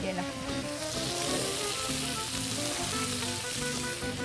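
Tomato, onion and ají chili pepper sweating together in a pan fill the clip with a steady, dense sizzle, with music playing underneath throughout.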